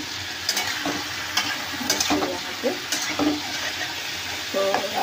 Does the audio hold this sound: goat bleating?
no